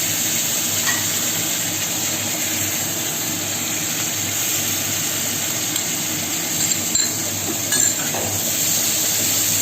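Spice paste fries in a pan with cumin, giving a steady, even sizzle throughout, with a few faint clinks of stirring near the end.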